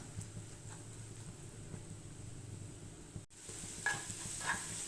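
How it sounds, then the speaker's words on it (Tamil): Crushed ginger, green chili, shallots and curry leaves are sautéed in oil for fish curry, making a soft, low sizzle with a few light stirring scrapes, quiet and without speech. "கறிவேப்பிலை நம்ம தட்டி எடுத்து வச்சுருக்கிற இஞ்சி பச்சை மிளகா சின்ன வெங்காயம் இதை போட்டு நம்ம நல்லா வதக்கிக்கலாம்"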